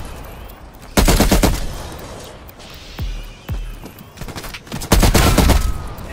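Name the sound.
gunfire in Call of Duty Cold War Zombies video game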